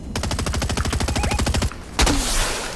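Rapid automatic gunfire in Fortnite, a fast even burst of about twenty close, loud shots, a brief pause, then one more heavy shot ringing out.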